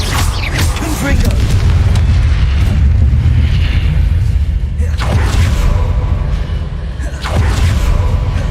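Confringo spell blasts in Hogwarts Legacy, heavy booming explosions with a deep rumble, loud and sustained, with a few sharper bursts standing out near the end.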